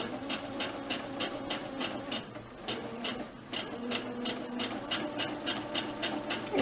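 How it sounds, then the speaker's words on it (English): Sewing machine stitching cotton fabric for a homemade face mask, with a rapid, even needle clatter that runs, pauses briefly, then starts up again, close and clear with no talk. "And then just keep on sewing."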